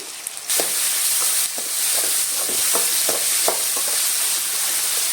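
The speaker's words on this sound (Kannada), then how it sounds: "ನಾನು ಇವಾಗ ಇದಕ್ಕೆ ಒಂದು ಮೀಡಿಯಂ ಸೈಜ್ ಟೊಮೊಟೊನ ಹಾಕ್ತಾ ಇದ್ದೀನಿ." A medium-size tomato fries with onions in a pan for pumpkin sambar, giving a loud, steady sizzle with soft rhythmic stirring scrapes throughout and no talking.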